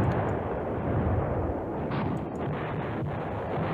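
Bombing explosions in the Command Ops 2 wargame, Greyhound Dash scenario, roll as a steady deep rumble with a couple of muffled blasts rising briefly out of the dull roar.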